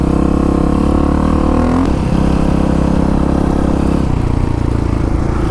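A 1985 Honda XR350R dirt bike cruising through the Anza Borrego desert at about 20 to 30 mph, a loud, steady single-cylinder drone close to the rider with a slight shift in pitch partway through.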